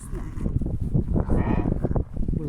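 Sheep bleat in a village flock that includes young lambs, their repeated wavering calls close by and mixed with people talking.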